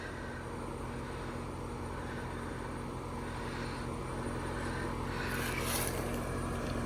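A pool pump running at 2850 RPM beside a sand filter gives a steady, loud motor hum with a constant drone, unbroken and without voices.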